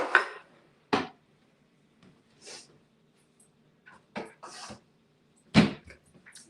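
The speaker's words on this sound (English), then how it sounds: "Let me get my skillet out." A metal skillet is pulled out of a kitchen cupboard, with a few close, sharp clanks and knocks separated by quiet gaps, plus soft shuffling and a cupboard bump.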